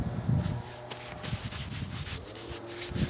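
Caked-on crud being scrubbed off older carbon-steel parts of a vintage .22 rifle, a steady close rubbing and scraping that keeps going with uneven strokes, heard alone.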